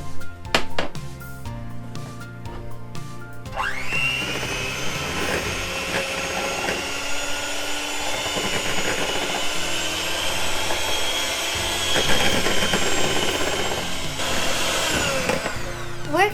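An electric mixer whips heavy cream for a sugar-free fruit tart filling, a loud steady motorized whir that starts abruptly after a few seconds of clatter and runs continuously, with faint scraping underneath.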